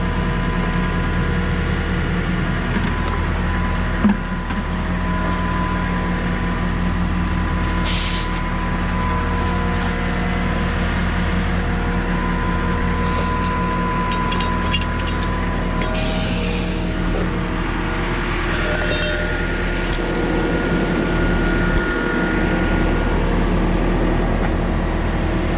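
A trailer concrete pump pumps grout up a water tower, giving a steady, loud mechanical drone with a constant engine hum and rattling that runs without a break throughout.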